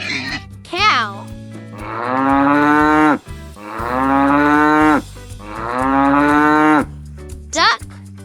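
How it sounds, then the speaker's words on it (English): A cow moos three times, each call long, loud and close, over a light musical backing in a children's animal-sounds song, with brief voice-like calls at the start and end. "Cow."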